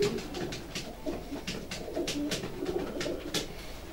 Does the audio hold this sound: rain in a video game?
no